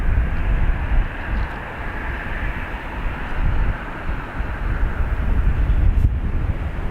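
An Icelandair airplane taxis out at Dublin Airport, heard as a steady, rumbling, distant engine drone with wind noise across the microphone and no talking.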